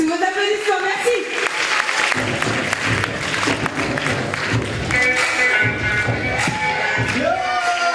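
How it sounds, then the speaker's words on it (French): Audience applause and cheering at a Miss Paris Sénégal 2013 event, a dense, loud wash of clapping lasting throughout, with voices and shouts mixed in and some music-like tones above. "Sous vos applaudissements, merci."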